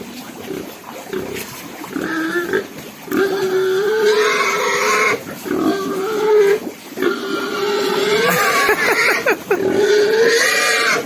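Several pigs grunt and squeal loudly and close by in a continuous, overlapping chorus of nasal, wavering calls with brief gaps, keeping up the noise for the whole stretch.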